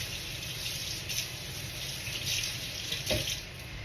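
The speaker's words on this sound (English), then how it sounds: "Let me rinse the spatula." A kitchen faucet runs in a steady, fairly quiet stream while a spatula is rinsed under it, with small splashy shifts in the flow and no talk.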